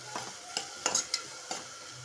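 Onions hit melted butter with fennel seeds for pav bhaji, giving a steady close sizzle broken by about five scraping strokes of a spoon stirring the pan.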